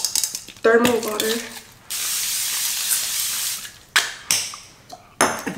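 Thermal water face mist sprayed in short hissing bursts: one long spray lasting about two seconds, then several briefer puffs, close and clear, with a bit of soft voice near the start.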